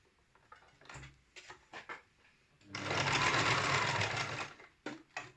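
A household sewing machine stitching a cord bow. A few soft handling clicks and taps come first, then a loud continuous whirring run of about two seconds, followed by more light clicks.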